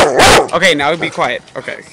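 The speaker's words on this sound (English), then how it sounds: "It's my dog." A dog barks loudly and close outdoors among evergreen trees, a couple of sharp barks up front followed by softer yips, while someone speaks over it to quiet it.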